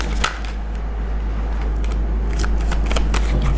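Tarot cards being shuffled close up, a continuous rapid riffling and flicking of the deck with no talking.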